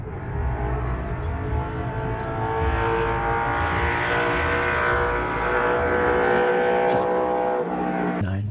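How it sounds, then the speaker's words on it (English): A 1969 Bud Moore Boss Mustang race car engine runs loud and steady with a rich harmonic roar throughout, rising slightly toward the end, with a sharp burst near the close like a gear change. "The noise of the car, the way it feels, the slick of the gear change"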